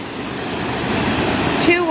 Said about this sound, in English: Oh my gosh, and there's the waterfall.